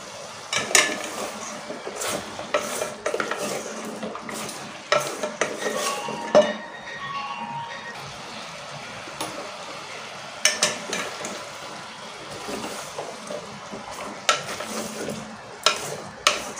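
Drumstick and brinjal pieces stirred with sautéed onions and tomatoes in a pan for sambar, a spoon scraping and clinking against metal in repeated strokes over a steady sizzle of frying, close and fairly loud.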